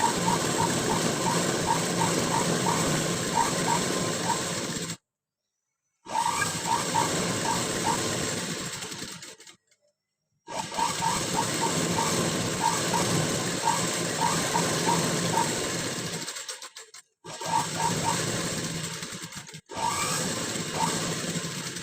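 A sewing machine stitches the neck part of a boat-neck blouse in several steady runs broken by brief silent pauses, a close, even mechanical whir with no talk.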